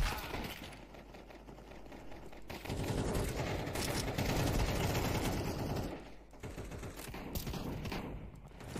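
Counter-Strike 2 gunfire aimed at a window, sustained rapid bursts of automatic shots with glassy crackle, fairly loud, briefly pausing before more firing resumes.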